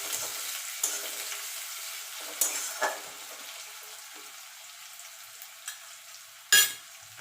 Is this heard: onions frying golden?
yes